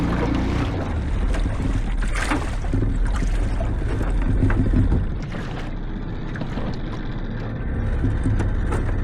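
A small dinghy sits out on open water while lobster pots are dropped, with wind buffeting the microphone, water sloshing and clunks from gear handling.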